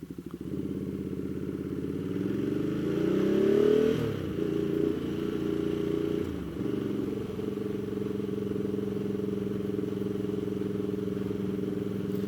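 A Ducati Multistrada touring motorcycle is ridden over a badly broken road, its engine droning steadily and close. The pitch rises and falls with the throttle, and there is a brief clattering jolt partway through.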